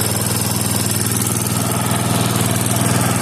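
A car engine idles steadily through a new, inexpensive OEM-style aftermarket muffler, giving a low, even, continuous exhaust drone with a fine rhythmic pulse and no talk over it.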